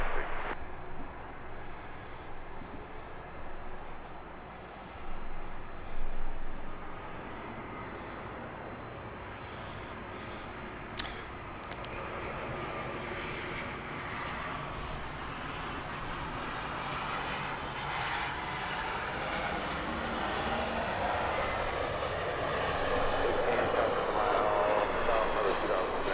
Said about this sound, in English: this 767 to Lima, surprisingly departing from this side